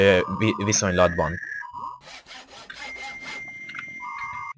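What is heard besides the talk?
phone ringtone set to old dial-up modem sound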